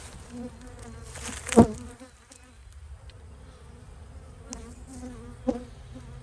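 Steady insect buzzing of honeybees near a hive, a continuous hum with one louder bee passing close and a few softer swells.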